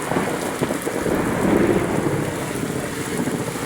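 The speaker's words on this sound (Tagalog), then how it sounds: "may kulog na, may kidlat" Heavy rain hisses steadily on a surface at Manila Bay while low thunder rolls through the middle, loud and continuous with no voices.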